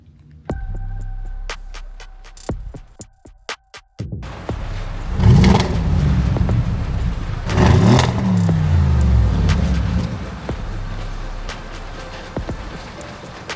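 An Audi RS7 engine revs twice in loud, rising bursts after a quieter opening with a few tonal beeps, then settles into a throbbing idle hum.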